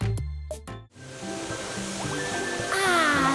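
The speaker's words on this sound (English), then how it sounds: "It was a sound of a car wash." Water sprays in a car wash as a steady hissing rush, preceded by a few short musical tones and joined near the end by a brighter, louder burst of spray.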